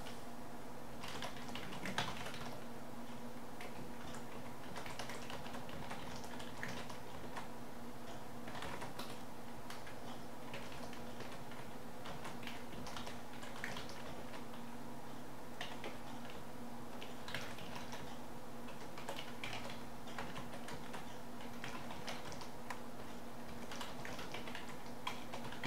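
Keyboard typing of code into a computer, steady clicking keystrokes in continuous bursts throughout, close and moderately loud over a faint steady electrical hum.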